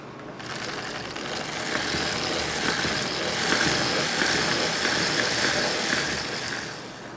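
A circular sock knitting machine works through 3 by 1 ribbing, giving a steady, continuous mechanical clatter and whirr that holds at an even, moderately loud level for several seconds with no voices.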